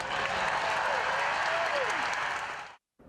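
Crowd cheering and applauding after the Pope's speech in Washington, D.C., a dense, loud wash of clapping and voices that cuts off abruptly near the end.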